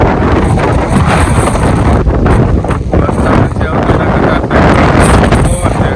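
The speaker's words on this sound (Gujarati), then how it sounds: "વરસાદ નથી નીકળતો, પવન છે." Loud gusting wind roars across the microphone without pause in Dhajala, Gujarat, with a brief voice emerging amid the buffeting.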